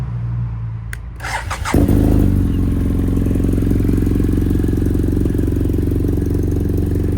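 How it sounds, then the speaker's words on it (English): A motorcycle engine fires up with a clattering start, then settles into a loud, steady idle, its exhaust rumbling close by. "And that's how loud the exhaust is."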